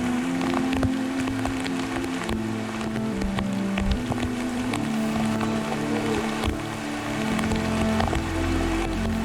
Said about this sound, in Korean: 고릴라를 살찌우는 비가 내립니다.